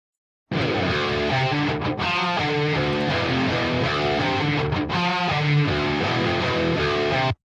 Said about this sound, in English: So the guitar with the amp sounds like this.